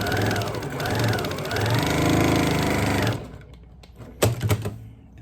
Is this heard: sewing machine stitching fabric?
yes